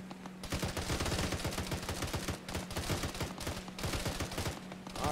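In a military video game, gunners lay down sustained automatic fire, with rapid bursts of shots broken by short pauses, loud and dense, with no talking.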